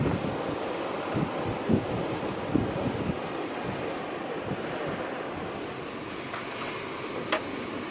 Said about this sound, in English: This wind is extreme.